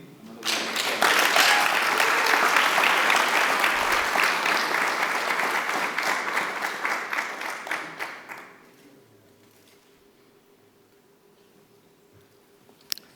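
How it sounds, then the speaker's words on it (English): An audience at the Governor's Symposium 2025 on St. Martin breaks into loud, sustained applause for about eight seconds, then fades abruptly into a quiet room hum. "Please give him another round of applause."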